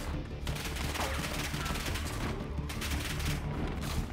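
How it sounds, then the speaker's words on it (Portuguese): Gunfire in a Call of Duty Black Ops 6 campaign firefight comes as dense, continuous bursts of shots that are loud and sustained throughout. "Como é que os tiros estão aqui a acertar, manos?"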